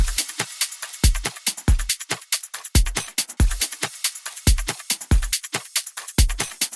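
A steady drum loop with punchy low kicks on a regular beat, bright ride cymbal strokes and a tambourine jingling continuously on top.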